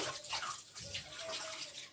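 Water runs from a filter tap while food such as vegetables, fish or meat is washed in a kitchen, giving a faint continuous splashing stream with small gurgles.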